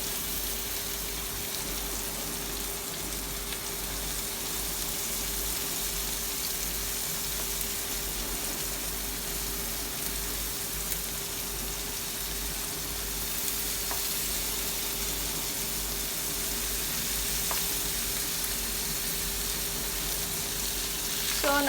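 Garlic butter potatoes with spices and sprinkled cheese sizzle steadily in a pan, a continuous dense frying hiss with faint crackles throughout, close and fairly loud with no talking.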